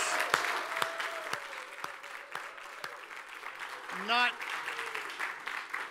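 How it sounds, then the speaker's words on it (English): An audience at a film industry event applauds, a soft, steady wash of clapping that runs beneath a speaker's talk. "So I want to give them a huge round of applause again"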